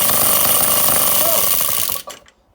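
A Villiers two-stroke engine on a lightweight ATCO kick-start lawnmower fires and runs loud and steady with a harsh buzzing clatter, then cuts out abruptly near the end, leaving a few faint sputters.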